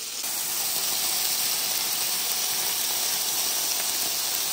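Meat sizzling on a Korean BBQ grill gives off a loud, continuous hiss that holds steady from start to finish, close and unbroken, with no talking.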